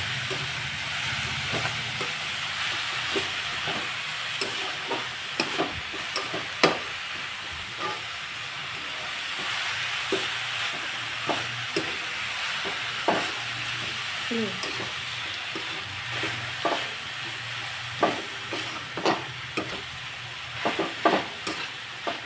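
Chopped homegrown fenugreek leaves frying in a pan, stirred with repeated scraping strokes over a steady sizzle and hiss, the stirring clicks coming at irregular intervals throughout.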